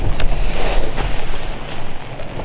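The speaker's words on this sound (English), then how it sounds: "did the wind just pick up?" Steady, loud wind in the Lake District roars and buffets the microphone, with rushing surges and no voices, like a strong gust sweeping through outdoors.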